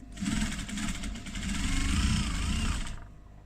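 A domestic sewing machine top stitches faux leather with a lengthened stitch, running steadily and fairly close for about three seconds, a continuous whirring motor hum with rapid needle rhythm, then stopping.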